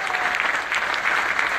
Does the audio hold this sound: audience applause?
yes